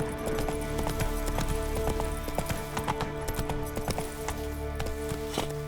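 Roach, a horse in the video game The Witcher 3, gallops with steady rapid hoofbeats under a dense, constant bed of game sound and music.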